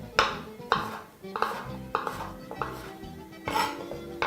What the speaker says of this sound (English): proceed to chop the same way all the way to the end